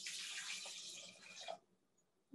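Water being poured into a cooking pot holding one cup of rinsed rice, a steady splashing gush that runs for about a second and a half, then stops abruptly, followed by near silence and a faint knock at the end.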